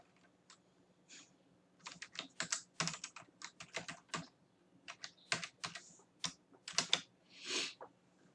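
Keys tap on a computer keyboard as a password is entered, sparse at first, then bursts of close, crisp clicks in uneven runs over a quiet background.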